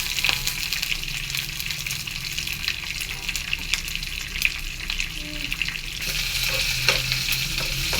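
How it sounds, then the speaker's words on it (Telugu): Dried red chillies sizzle and crackle in hot oil as a tempering for dal, a steady close frying hiss with bubbling pops that rises slightly near the end. "తాలింపు బాగా వేగిన తర్వాత"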